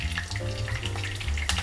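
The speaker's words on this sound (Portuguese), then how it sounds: "Enquanto meu arroz tá aqui, eu já vou fritar as minhas cebolas." Onions frying in oil for a festive rice dish give a steady sizzle and crackle, with faint tonal sounds underneath and no speech.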